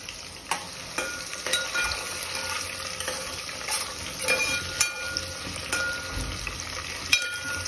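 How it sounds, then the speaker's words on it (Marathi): Garlic and onion frying with cumin in a pan for Khandeshi khichdi, a close, lively sizzle broken by sharp spatula scrapes and taps against the pan, without talk. "आता मी टाकते लसूण, मग आता मी टाकते कांदा,"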